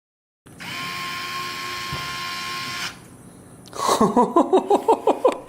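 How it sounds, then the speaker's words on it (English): A HOTO 3.6V cordless electric screwdriver driving screws into computer monitor hardware, a steady high motor whine for a couple of seconds, then a brief pause and a rapid series of ratcheting clicks as the clutch slips. "I was screwing this hardware in and it had no issue going in or out."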